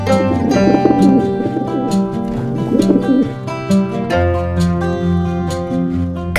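Pigeon cooing in soft, repeated rolling bursts over a steady cartoon-style music bed, fairly close and clear, with no talking.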